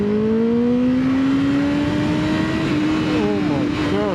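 A Kawasaki ZX9R superbike pulls hard on the road, its engine note climbing steadily in pitch under strong acceleration, loud and close, with wind rush and a rider's voice audible over it.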